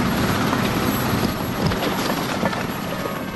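Military helicopter in flight during the 1982 Falklands War, heard from inside as a loud, steady broadband roar of rotor and engine noise with a faint rhythmic chop, filling the whole stretch without speech.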